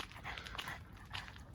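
A dog on a leash pants in quick, steady breaths close by, outdoors among cedar trees, with no talking.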